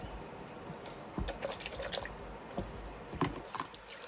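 An oil paint brush being washed outdoors in the woods, with faint wet squishing, dabbing and dripping in short irregular bursts over a quiet background.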